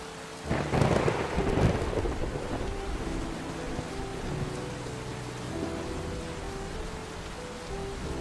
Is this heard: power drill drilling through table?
no